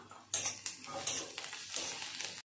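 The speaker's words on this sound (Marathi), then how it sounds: "आता कांदा लालसर रंग येईपर्यंत कांद्याला परतून घेऊया।" Chopped onion sautéed with asafoetida in a pan for methi besan, a close sizzle with spatula scrapes and stirring clatter against the pan, cutting off abruptly.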